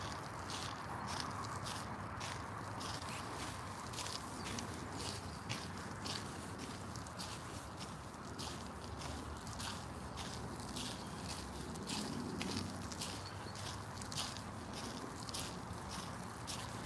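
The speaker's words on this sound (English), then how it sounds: "That crunchy there, I think it's frost and not snow." Footsteps crunch over frost-covered ground on a rural trail, a steady rhythmic series of crisp, gritty steps close by, walking on for a long stretch without talk.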